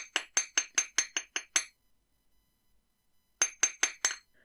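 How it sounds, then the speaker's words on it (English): A small hammer taps a wire-wrapped earring drop flat on a hard block: eight quick, bright metallic clinks in a steady rhythm, a pause of near silence, then four more sharp taps, close and clear. "We can just hammer down into that drop slightly"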